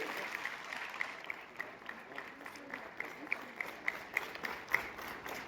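Applause at a school election results ceremony as the winning head girl is honoured: a faint, distant patter of clapping with a few sharper individual claps standing out, mixed with murmuring voices.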